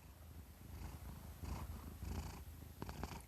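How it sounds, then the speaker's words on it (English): A contented cat purrs close to the microphone in soft, rhythmic rumbling pulses, quiet and alone without any talk. "He's purring a lot today."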